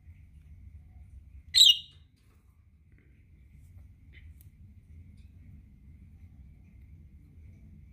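Parakeets named Coco and Honey give a single short, bright chirp near the start, close by, with a low indoor rumble underneath and the rest of the room quiet.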